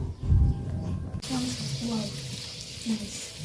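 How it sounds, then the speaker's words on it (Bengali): Luchi deep-frying in hot oil for a Janmashtami bhog offering: a steady, close hiss starts abruptly and continues beneath a person talking. "দিদি ওদিকে আবার লুচিগুলো ভেজে নিচ্ছে"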